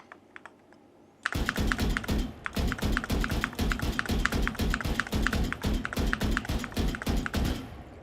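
Rapid, even clacking of keys typed on an AK680 MAX computer keyboard close by, starting after a brief quiet moment and continuing steadily.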